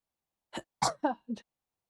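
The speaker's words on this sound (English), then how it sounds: "I just have a residual cough." A few short, dry coughs in quick succession, close by, like someone clearing a lingering cough.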